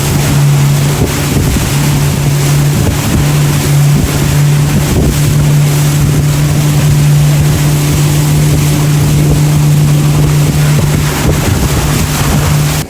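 A motorboat engine drones loud and steady close by as the boat pulls into the main dock at Quimixto near Puerto Vallarta, with wind buffeting the microphone and water rushing throughout.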